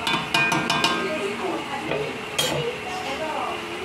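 Pork and chicken adobo is stirred in a sizzling pan, with several sharp scrapes and clinks of a utensil against the metal over a steady fry, loud and close.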